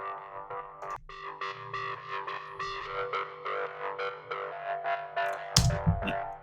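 A Logic Pro X ES2 synth patch built from three detuned saw waves sustains bright chords with resonant overtones. A short click cuts in near the start and a louder burst comes near the end.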